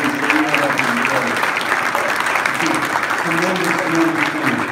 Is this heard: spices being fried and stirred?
no